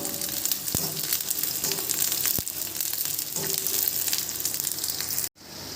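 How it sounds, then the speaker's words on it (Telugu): Onions, ginger and garlic frying in oil in a pan, a loud, continuous close sizzle with a few spatula knocks against the metal before the sound cuts off abruptly near the end. "ఒక మూకుడు పెట్టి అందులో ఆయిల్ వేసి ఇలా మనం ఫ్రై చేసుకోవాలి"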